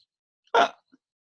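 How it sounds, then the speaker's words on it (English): A single short, sharp hiccup bursts out of near silence, followed by a tiny faint catch of breath. "that was a hiccup?"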